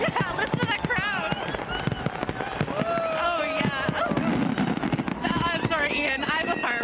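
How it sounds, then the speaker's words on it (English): Fireworks bursting in rapid succession at a New Year's Eve countdown celebration in Canada, loud repeated pops and crackles mixed with a cheering crowd and people talking nearby. "Not just necessarily coming to these amazing fireworks that are going off right now."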